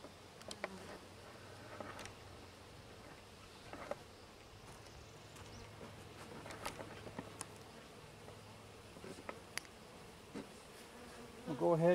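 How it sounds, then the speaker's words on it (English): Honeybees from a package being installed into a hive, a soft continuous buzzing with individual bees droning close past, plus occasional light taps and handling noises. "I'll go ahead and put the first box of bees into the hive."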